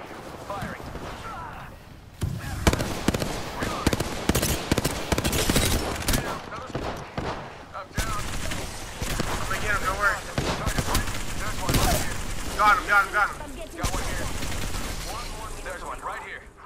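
Sustained automatic gunfire from Apex Legends, dense rapid bursts filling most of the stretch with brief pauses, loud and close, with game effects and occasional voices mixed underneath.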